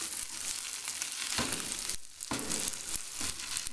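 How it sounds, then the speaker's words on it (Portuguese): Sausage frying in a home pan, giving a steady loud close sizzle that carries through almost without a break, with one short dip in the middle. "vou só esperar a linguiça fritar"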